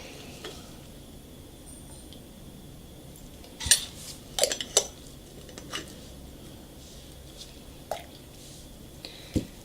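Cold process soap batter with added fragrance is stirred in a container, giving a quiet wet background with a handful of sharp utensil clinks and knocks spaced irregularly, loudest in a cluster near the middle.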